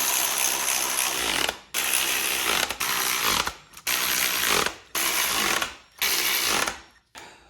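A ratchet tightens ARP-lubed head bolts on a sleeved LSVTEC Honda Civic engine, producing loud, close runs of rapid clicking in about six bursts separated by brief pauses.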